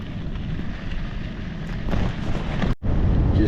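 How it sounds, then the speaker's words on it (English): Strong headwind buffeting a microphone while cycling along a highway, a steady loud rush of wind noise with a brief dropout near the end. "Headwind. Probably a 12 to 15 mile an hour headwind."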